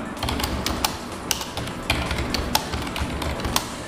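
Rapid keystrokes on a computer keyboard, close and crisp, with uneven rhythmic tapping and a few sharper louder key hits scattered through, no talking.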